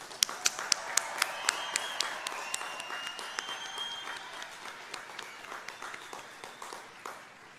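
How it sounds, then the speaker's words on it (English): A crowd at an outdoor high school graduation ceremony claps for the graduating class, with sharp distinct claps from nearby hands over a softer spread of applause farther off that slowly thins out. "let's give the class of 2021 another round of applause"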